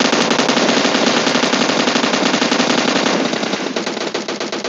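Rapid automatic gunfire from a shooting video game rattles loudly and continuously, a dense burst of shots that thins into slightly more separated reports near the end.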